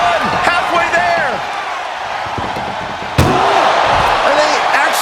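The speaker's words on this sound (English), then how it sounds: "Desperately trying to close the first of two doors." Ambulance door slammed during a wrestling match in the WWE 2K25 video game, one sharp loud bang midway amid bouncing impacts, crowd noise and commentary.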